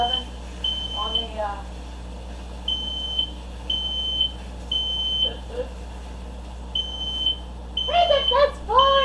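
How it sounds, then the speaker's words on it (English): Kitchen smoke alarm set off by roasting tomatillos for salsa verde: a shrill, repeating electronic beep sounds in short evenly spaced bursts, with someone talking between and over the beeps. "You get to see the smoke alarm taking crazy."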